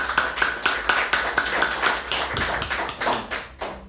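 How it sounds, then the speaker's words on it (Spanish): A church congregation claps together in a quick, steady rhythm, the slaps evenly spaced and moderately loud throughout, with no talking over them. "dale un fuerte aplauso al Señor por eso"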